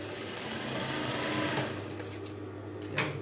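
A sewing machine stitches darts on the back of short trousers, its motor whirring in a steady close hum with a brief pause and restart near the end, alone with no talk.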